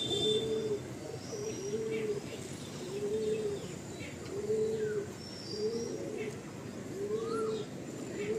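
A white Mundi pigeon coos in soft, repeated low calls about once a second, heard close against a hissy indoor background with faint chirps.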